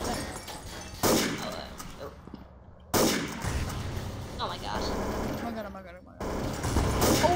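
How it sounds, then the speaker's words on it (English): Bursts of Counter-Strike gunfire crackle in rapid volleys, with loud onsets and dense shot clusters layered over game effects while a person talks. "Oh god, I shot him."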